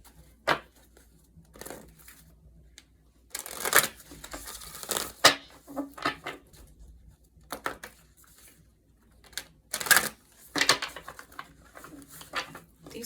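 Playing cards are handled and shuffled close up, with scattered dry riffles and crisp flicks in irregular bursts against a quiet room.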